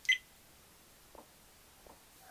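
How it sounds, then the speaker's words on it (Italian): Three short electronic beeps from an HFK HM702 dash cam at startup, the first brighter and sharper, the next two fainter and spaced about three quarters of a second apart, in quiet surroundings. "Questi sono i 3 bip che fa e le diverse impostazioni"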